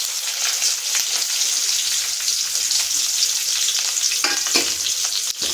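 Medium-sized onion, sliced lengthwise, sautés in oil, a steady, close hiss of frying with occasional stirring scrapes toward the end and no voices.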